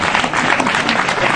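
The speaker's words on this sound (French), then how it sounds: "On se tient debout et on acclame Jésus-Christ." A church congregation claps and cheers for Jesus, a dense, loud burst of applause lasting just over a second.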